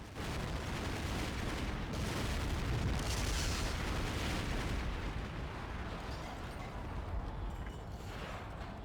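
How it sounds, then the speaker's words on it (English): Dense, rumbling video game explosions and booms from Metal Gear Solid overlap continuously, forming a loud, chaotic barrage of blasts. "I don't think he can take that many more explosions at this point"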